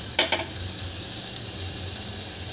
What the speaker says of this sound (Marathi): गॅसवर थोडंसं फ्राय करून घ्यायचं आहे 2 मिनटं